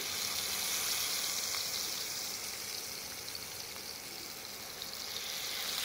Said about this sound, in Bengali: তারপরে মাছটা একে একে ভেজে নেব খুব সুন্দর করে।